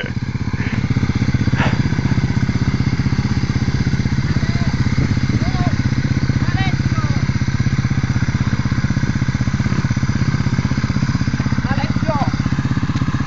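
A BMW enduro motorcycle labours on slick, muddy dirt, its engine a steady close chugging drone. People shout and talk over it now and then.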